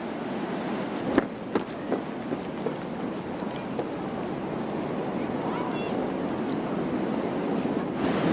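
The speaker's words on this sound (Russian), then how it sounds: "Атлантический океан прекрасен" Atlantic Ocean surf rolling along the coast, a steady broadband wash with wind buffeting the microphone and a few faint knocks, heard continuously and fairly close.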